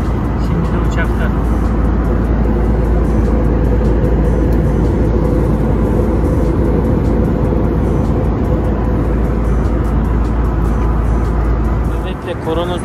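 Steady, loud broadband roar inside an airliner cabin during a flight from Gothenburg to Antalya, a constant engine and air rush with no breaks.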